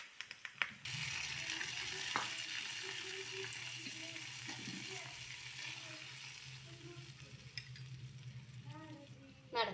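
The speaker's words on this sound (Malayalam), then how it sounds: "ഇനി ഇതൊന്ന് കറിയിലേക്ക് ഒഴിച്ചു കൊടുക്കാം." A tempering of fried onion and curry leaves poured into a pot of fish curry, giving a steady loud sizzle and frying hiss that continues throughout with a few small clinks and stirring noises.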